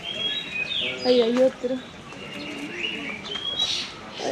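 Caged songbirds in a garden in Bali chirp and whistle nearby in short bursts, while a person talks briefly over them.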